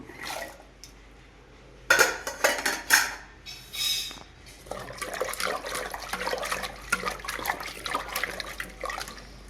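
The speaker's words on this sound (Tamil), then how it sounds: "இது அப்படியே தண்ணீர் போட்டு அலசி எடுத்துக்கலாம்" Ginger, garlic, onion and coriander are rinsed in water in a kitchen while chicken fry is being prepared, with clattering of a bowl and splashing, swishing water building after a quiet start.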